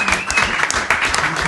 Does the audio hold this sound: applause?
yes